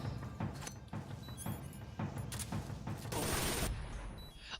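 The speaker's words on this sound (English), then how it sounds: "I started shooting him too early." Dense, sustained video-game gunfire from Metal Gear Solid 3, a loud rattle of overlapping shots and bursts that builds into a heavier barrage near the end, with no talking.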